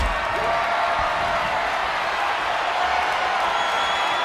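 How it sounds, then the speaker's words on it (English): A wrestling arena crowd roars in the video game WWE 2K26, a constant, dense wall of cheering noise that holds at an even level without breaks. "this bloodthirsty crowd is loving it"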